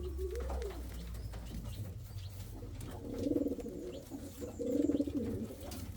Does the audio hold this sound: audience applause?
no